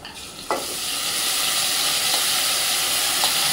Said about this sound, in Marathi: चांगलं असं परतून घेऊया ते.